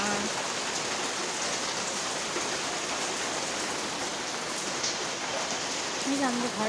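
Torrential rain beats down on a house, a thick, steady wash of droplets striking nearby surfaces, with a faint tonal sound entering just before the end.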